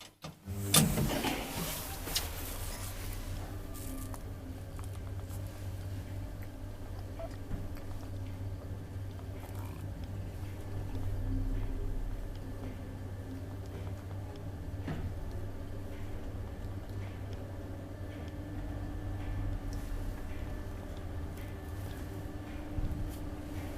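An old Kone traction elevator from 1971 rides between floors: a steady mechanical hum with a whining motor tone and occasional faint ticks and clunks, starting with a brief rattle as the car sets off, and no talking.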